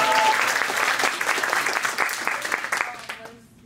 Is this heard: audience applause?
yes